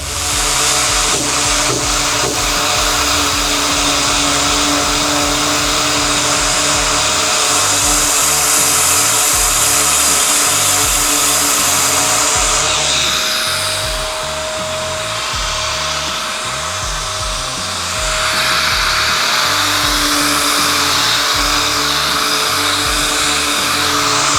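A random orbital sander whirs steadily and loudly for the whole stretch, its motor pitch dipping briefly midway before climbing back up.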